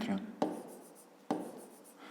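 Pen or pencil writing numbers on paper while a fifth-grade math exercise is worked out, two short scratchy strokes with a soft rubbing texture between them, close and quiet.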